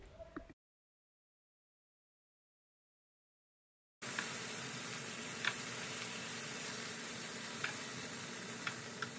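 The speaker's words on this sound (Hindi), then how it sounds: "अब इसको ग्रिल होने के लिए रख दीजिए" Marinated chipotle chicken sizzles steadily on a grill with a close, continuous frying hiss and occasional soft ticks and pops, following a brief sound and a few seconds of silence.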